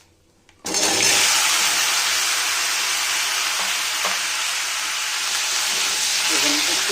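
Nigella seeds dropped into hot oil, in a pan where fish was just fried for a Bengali macher jhol, burst into a loud, steady sizzle that starts abruptly and holds close and strong, with a few faint clinks underneath.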